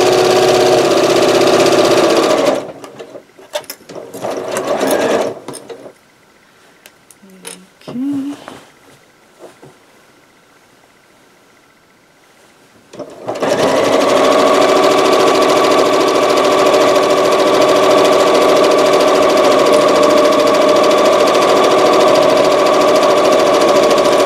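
A sewing machine stitches a quilt seam for a disappearing nine-patch quilt, its motor humming loud and steady for a few seconds. It stops for a short, nearly silent pause, then runs again at an even pace for a long stretch.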